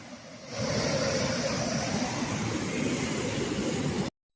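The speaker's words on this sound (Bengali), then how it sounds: "এই যে নদীর স্রোত আর নদীর আওয়াজ" A mountain river near Govindghat on the Ghangria trek rushes in a loud, constant broadband roar that jumps up after a quieter first half second and then holds steady until it cuts off.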